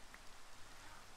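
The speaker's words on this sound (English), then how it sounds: "It's all rainy." Steady, soft rain falling, an even hiss of drops with no other sounds on top.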